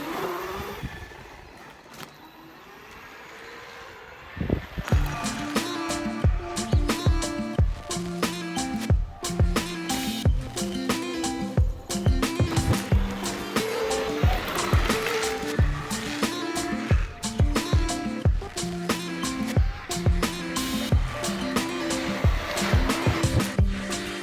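Electric skateboard fitted with a Maytech 6374 motor and Focbox Unity controller on an E-toxx gear drive rolls off after a quiet start, then runs continuously with steady motor whine and clattering wheel noise on pavement.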